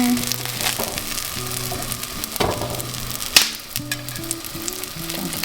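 Slices of crusty bread toast in olive oil in a pan, a continuous close sizzle and crackle with a few sharp clicks and knocks of a utensil against the pan, no voices.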